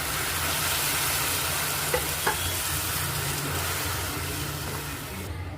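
Tomato puree frying with ginger garlic paste in a pan for a gobi aloo masala curry, a steady dense sizzle close up throughout, broken only by a couple of faint knocks.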